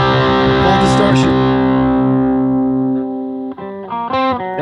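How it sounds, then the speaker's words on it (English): Heavily distorted electric guitar sustains a loud, buzzing chord that slowly decays, then choppy distorted notes and short bursts follow near the end. "full distortion."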